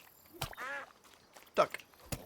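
A duck quacks a few times in the game Chop Chop Inc, short nasal calls spaced over a couple of seconds with quiet between them.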